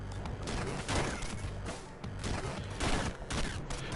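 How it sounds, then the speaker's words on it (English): In the roguelite game Downwell, a laser gun fires in a dense, continuous barrage of loud crackling shots that fills the whole stretch without pause. "We just picked up the laser, which is a very powerful weapon."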